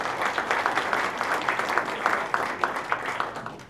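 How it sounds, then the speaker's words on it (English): Audience applause fills the room at a product launch challenge event, a steady dense wash of many hands clapping with no voices over it, holding for several seconds. "let's give him a round of applause as well"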